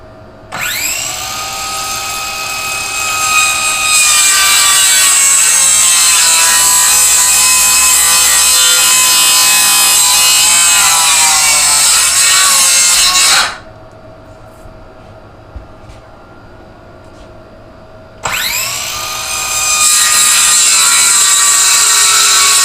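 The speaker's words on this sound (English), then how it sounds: "let me line up my saw. It's going to be a little noisy" A power saw cuts through wood while a model railroad track is being built, a loud sustained whine of about 13 seconds that falls silent briefly, then starts up again as a second cut begins.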